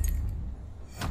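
Keys jangle as they are picked up in Far Cry New Dawn, a short close metallic rattle at the start and again near the end, with a low hum underneath.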